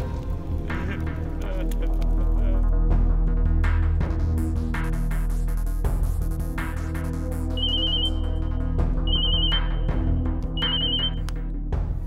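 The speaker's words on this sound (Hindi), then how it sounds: "सूरज भान सिंह के फोन लगाओ" A telephone rings after a call is placed in a Bhojpuri film scene: three short, evenly spaced electronic ring bursts, loud and clear, over a heavy droning music bed with scattered hits.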